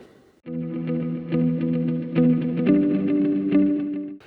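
A song plays from a recording, with steady music featuring an effected, chorus-like tone throughout and no talk.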